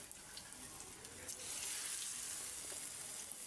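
Potato chops coated in gram-flour batter fry in hot oil, giving a soft, steady sizzling hiss that grows slightly fuller partway through, with no talking.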